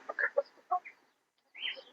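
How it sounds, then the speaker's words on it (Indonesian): An Ayam Ketawa (Etawa) laughing rooster gives a few short, close clucking and cackling calls in quick bursts, falls briefly silent, then lets out another rising call. "cek ayam jago etawa dulur-dulur"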